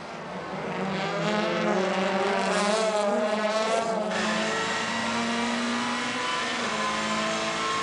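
WTCC 2016 touring cars racing, with Castrol Honda entries on the attack: multiple engines roar and rev continuously at close range, pitch rising and falling as the cars accelerate past one another.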